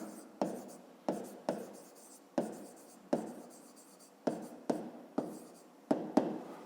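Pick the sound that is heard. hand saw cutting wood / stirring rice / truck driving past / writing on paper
writing on paper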